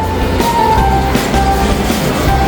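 Loud, rumbling train noise fills the air, with a rolling low roar, faint rhythmic clatter and occasional metallic whine as it passes close by.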